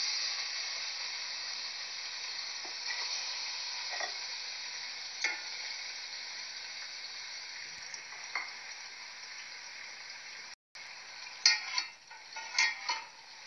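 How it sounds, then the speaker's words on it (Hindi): Chicken pieces frying in hot oil give a steady, bright sizzle throughout, with occasional crackles and spoon or pan clicks near the end and one brief dropout. "अब हम चिकन को ऑयल में डालेंगे और अच्छे से फ्राई कर लेंगे"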